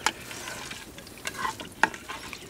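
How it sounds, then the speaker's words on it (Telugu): Bay leaves, cinnamon, cloves and cardamom dropped into hot ghee for ghee rice, a soft crackling sizzle with a few sharp pops and stirring clicks, close up and without speech. "నెయ్యి వేడెక్కగానే ఇవన్నీ వేసుకోవాలి"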